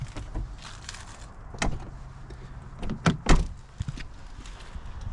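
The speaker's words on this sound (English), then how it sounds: "Let me shut the door." A Toyota Tacoma truck door shuts with a couple of solid thuds and clunks, preceded by softer handling and rustling noises, close by.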